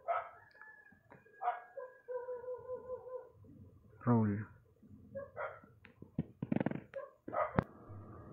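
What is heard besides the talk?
dog barking at night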